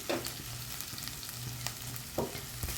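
Chilli powder sizzles in a hot pan while cooking Arabian mutton mosaga, a steady crackling fry with a few clinks and scrapes of stirring, close and alone.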